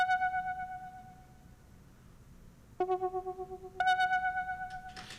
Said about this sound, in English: It's called analog tremolo piano.